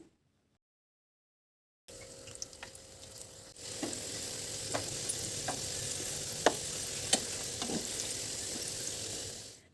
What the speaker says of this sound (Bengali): এখন বাকি রুটিগুলো আমরা তেলের মধ্যে দিয়ে দিচ্ছি